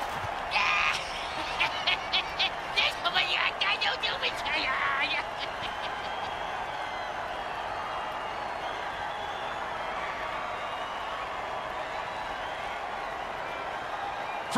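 A crowd cheers in an American football video game after a first-down play, a broad roar with a burst of claps and whoops early on, then a steady murmur underneath.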